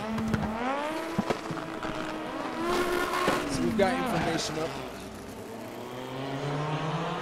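Race car engines idle and rev at the start line of a Delta Racing event, pitch rising and falling in overlapping sweeps, fairly close and steady, while a voice talks over them.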